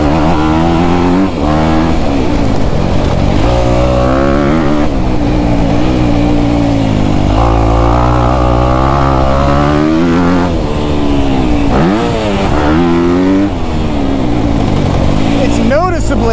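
A 2024 Honda CRF250R dirt bike engine runs loud and steady while riding, its pitch rising and falling with throttle changes and shifts. Wind noise sits over it, and a voice may be talking through parts of it.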